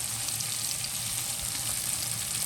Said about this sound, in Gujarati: 3 થી 4 મિનિટ સુધી પાછો પકવશું તેલમાં